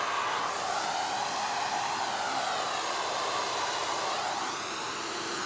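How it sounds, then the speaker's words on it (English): A vacuum cleaner runs on car carpet and mats, giving a loud, steady whining roar. It holds nearly constant for the whole stretch, with only slight shifts in pitch as the nozzle moves, and no talking over it. "vacuum them up"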